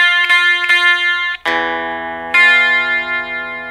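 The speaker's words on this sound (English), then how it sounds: "The sharp note would sound like this." On a 12-string guitar, a deliberately sharp, out-of-tune note sounds: a couple of light plucks, then several strong strummed attacks that ring bright and loud before fading, close up and without speech.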